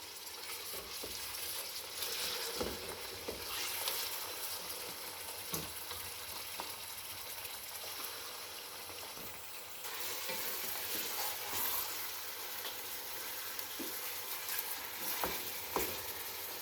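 Beef chunks sizzle and crackle in a pan with lightly softened onions for nihari, a continuous frying hiss broken by scraping stirs and clinks, close and steady without talk.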